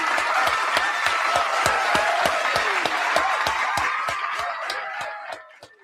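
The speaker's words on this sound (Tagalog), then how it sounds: "bigyan naman natin ng palakpak si Ombudsman" Applause from an audience, with evenly spaced sharp claps standing out over a rustling crowd bed, fairly loud and steady before thinning and fading away at the end.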